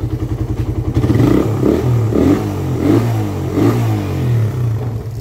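A carbureted Suzuki Raider 150 motorcycle engine idles with a rapid putter, then revs up repeatedly in rhythmic bursts, loud and close, with no talking.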